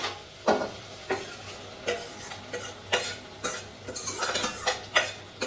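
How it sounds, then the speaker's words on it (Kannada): Cooked dal (lentils) being mashed in a pot, with repeated irregular metallic knocks and scrapes of a utensil against the vessel and soft squelches between strikes, close up and with no talking. "ಸೊ ಸ್ಮ್ಯಾಶ್ ಮಾಡಿರೋ ಅಂತ ಇದನ್ನ ಹಾಕ್ತೀನಿ ಆಯ್ತಾ, ಬೇಳೆನ."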